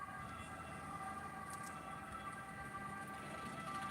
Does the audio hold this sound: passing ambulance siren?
yes